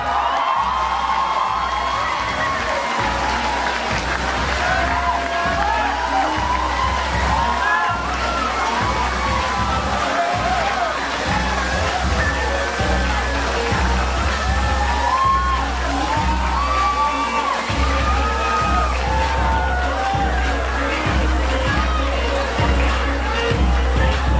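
A crowd gathered to honour Eric Santos at his Hummer H2 award cheers, whoops and claps for a long stretch, a loud continuous roar of many voices with children shouting among them.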